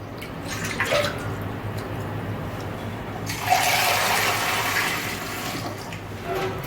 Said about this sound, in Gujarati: તો આપણે આ 4 વાટકા જેટલું આપણે પાણી નાખીશું